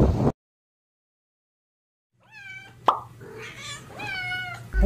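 A cat on a fishing outing in Abu Dhabi meows twice, close and fairly loud, with a sharp knock between the calls and a low hum underneath.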